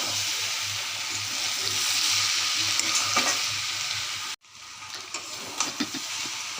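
Raw jackfruit curry sizzles and fries in a pan while being stirred, a steady close crackling hiss with scraping spatula strokes, briefly cut off before resuming.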